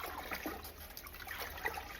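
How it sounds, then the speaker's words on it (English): Water streams from a container into a pot of albóndigas broth, a faint, soft trickling splash that runs on without a break for a couple of seconds. "I'm adding 4 more cups of water"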